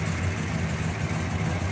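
A 1969 Chevrolet Chevelle COPO 427 with a solid-lifter engine and factory mufflers idles with a steady, deep rumble.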